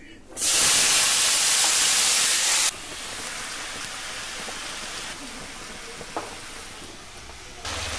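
A loud burst of sizzling as chopped vegetables hit hot mustard oil with black cumin, settling into a steady hiss with faint stirring and a small clatter near the end.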